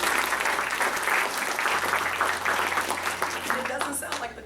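Audience at a K-pop fan convention panel applauds, a dense sustained burst of clapping that fills the room, with voices speaking faintly underneath.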